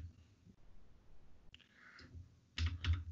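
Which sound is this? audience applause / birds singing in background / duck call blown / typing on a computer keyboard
typing on a computer keyboard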